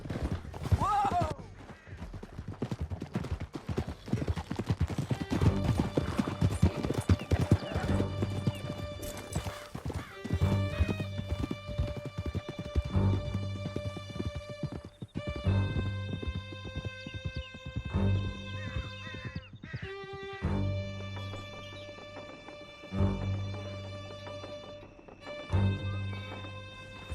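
Horses gallop in Red Dead Redemption 2 with a steady, loud clip-clop of hooves, accompanied by creaking tack, a whinny and scattered game effects, all lasting throughout without speech.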